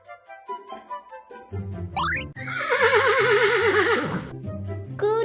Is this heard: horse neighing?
yes